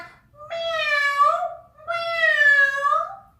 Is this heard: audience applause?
no